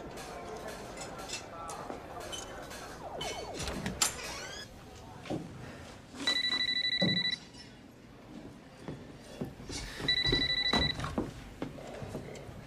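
A telephone rings twice in electronic bursts, separated by a pause, loud and close, with people talking and moving around before and between the rings.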